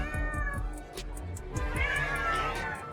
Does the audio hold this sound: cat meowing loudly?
yes